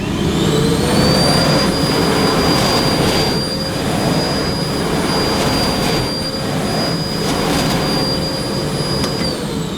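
Miele Blizzard CX1 bagless vacuum cleaner running on maximum power over carpet, a loud continuous whine with a high steady tone and a rushing airflow roar, swelling slightly as it is pushed back and forth.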